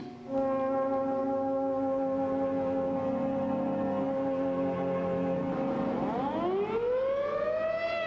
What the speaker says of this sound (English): as directed by the mayor, the siren sounds once more